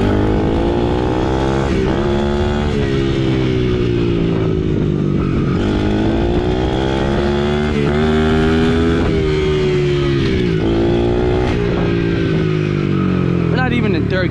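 A gas dirt bike ridden on a street, its close engine droning loudly and rising and falling in pitch through repeated revs and gear changes, while a voice talks over it.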